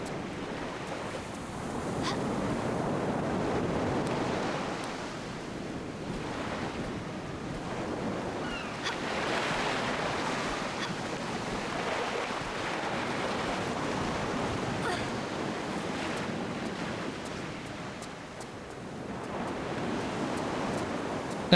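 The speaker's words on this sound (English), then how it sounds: "I always liked hearing the sound of the waves in this level in particular." Ocean waves roll through the Coastal Ruins level of the video game Tomb Raider: The Last Revelation, a continuous broad wash of surf with slow swells and wind-like hiss and no voices.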